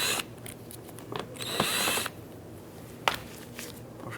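Removing T20 fasteners from under the bumper of a Nissan Pathfinder: close, faint ratcheting clicks and scraping from a driver, with a brief burst of louder mechanical whirring midway.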